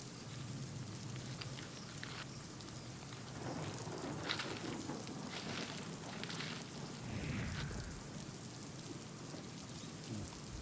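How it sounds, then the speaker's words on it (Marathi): Steady rain beats down in a windy storm over Hapus mango orchards, with low rumbles of thunder rolling underneath; the downpour is fairly faint and constant, with no voices. "येणेरे भागामध्ये वादळी वाऱ्यासह पाऊस झाला"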